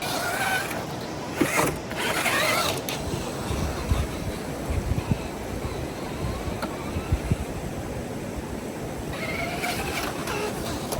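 An FMS FCX10 Chevy K5 RC truck driven at full throttle in high gear, a continuous close motor and drivetrain whine with gritty tire noise and wind buffeting, steady and fairly loud with no talking.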